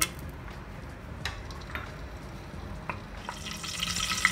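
Cardamom and cloves fry in hot ghee for a sweet zarda, a steady close sizzle with a few light scrapes and clicks, growing a little louder toward the end.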